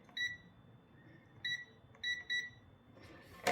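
Electronic beeps from a multimeter continuity test sound in short bursts: one, then a pair and a quick pair further on, tonal and clear over faint room hiss, with a brief rustle at the end.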